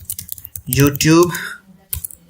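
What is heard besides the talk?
typing on a computer keyboard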